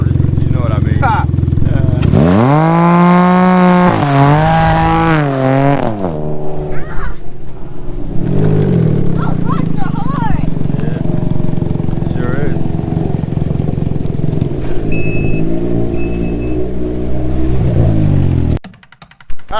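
Revving car engines with a loud, rasping aftermarket exhaust, including a Silber Turbo, rise and fall through a few throttle blips close up, mixed with voices talking over the noise.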